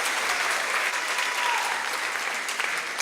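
An audience at a senior women's pageant claps for a contestant, a sustained even round of applause from a crowd, moderately loud and continuous with no break.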